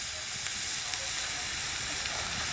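Trevally fish pieces fry in oil, giving a soft, continuous sizzle and hiss, steady and fairly faint, with no talking over it.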